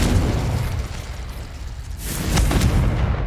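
The Confringo blasting spell in the video game Hogwarts Legacy, heard as a dense, rumbling explosion with a deep boom that fades briefly and then swells again into a second burst.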